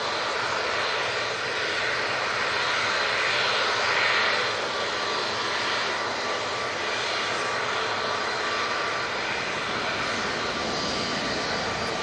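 An Aer Lingus airliner departs from Manchester Airport, its engines roaring loud and broadband throughout, a sustained rushing thunder that swells slightly and holds without a break.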